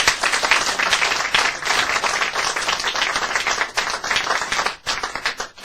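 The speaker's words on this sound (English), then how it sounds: "Let's have a warm round of applause, please, for Mr. Jerry Andrus." An audience at a magic show applauds steadily, a dense, continuous crowd of hand claps rising and falling slightly before tapering off near the end.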